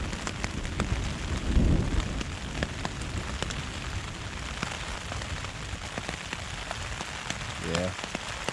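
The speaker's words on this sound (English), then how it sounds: "get our first signs of thunder and lightning" Steady rain patters during a severe weather alert while camping in Table Rock State Park, with a brief, faint rumble of distant thunder early on under the constant hiss of falling water.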